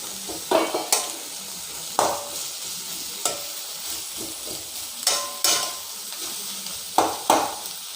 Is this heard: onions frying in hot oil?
yes